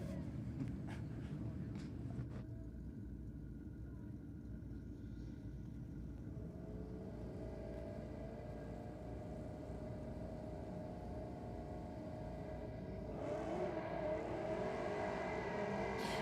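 Drag racing cars launching and running down the strip at Sydney Dragway during a drag, drift and burnout night, a steady loud engine roar and rumble throughout, rising again near the end.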